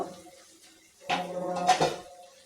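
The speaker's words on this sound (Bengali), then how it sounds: "এখন আমি ঢাকনা খুলে দেব" A lid comes off a cooking pot of fish with radish greens, making a short close clatter of metal that rings briefly over a quiet kitchen background.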